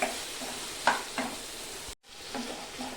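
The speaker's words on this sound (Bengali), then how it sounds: "মশলাটা আমি ভালো করে ভেজে নেব।" Whole spices of coriander, dried chilli and cumin are dry-roasted in a pan, giving a soft steady sizzle with occasional stirring scrapes and a brief dropout near the middle.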